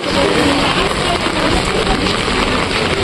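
Steady rain falls on Darjeeling's Mall Road, a dense, continuous hiss of drops spread evenly across the whole stretch, fairly loud and close, with faint traffic rumble underneath and no talking.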